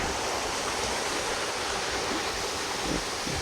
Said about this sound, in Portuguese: E essa é a principal cachoeira.